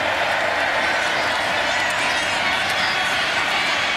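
A football crowd at McLean Stadium, with Kansas State playing Baylor, stands and roars in a loud, steady wash of cheering and applause that fills the whole stretch, under a commentator's voice.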